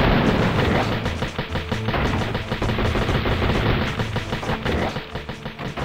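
Rapid, dense gunfire from the GTA Online game, shots fired in quick repeated bursts with booming low thuds, loud and continuous without pause.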